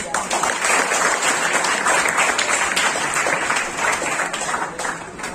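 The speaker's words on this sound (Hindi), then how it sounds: "ताली तो कम से कम" Audience applause at a Hindi Diwas prize ceremony at a government polytechnic in Patna, a dense, steady clapping that fills the whole stretch at constant loudness.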